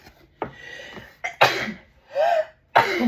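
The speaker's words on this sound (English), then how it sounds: "Random sneezes happening." A few sharp, abrupt bursts of breath noise spaced apart, like sneezes or coughs, close by with brief quiet gaps between.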